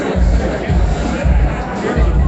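Crowd murmur at an evening gathering, a dense babble of many voices with thumping low rumbles, steady and fairly loud throughout.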